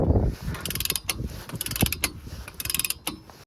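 A ratchet wrench clicks as a bolt is tightened during a 2009-2015 Toyota Venza wheel bearing replacement, loud close bursts of rapid ratcheting separated by brief pauses, with a few metallic clunks and no voices.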